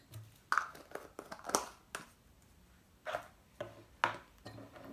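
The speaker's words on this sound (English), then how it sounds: "Then mix the two very well." Turmeric powder and sugar being mixed in a bowl with a spoon, giving irregular clinks and scrapes in short bursts, close and fairly quiet.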